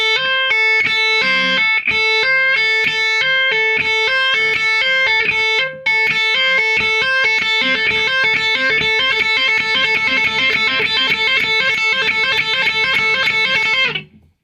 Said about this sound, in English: we're gonna turn that into a kind of a triplet lick